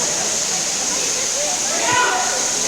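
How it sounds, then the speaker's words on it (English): Steady rushing water from Satrem Waterfall in Valpoi, Goa roars continuously up close, with a faint voice beneath it. "I have never seen a beautiful waterfall like this"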